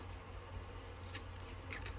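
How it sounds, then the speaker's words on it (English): Archangel Power tarot cards are shuffled by hand, a soft, steady riffling and rustling over a low background hum, faint and close with no one talking. "let me shuffle these Archangel Power Tarot cards"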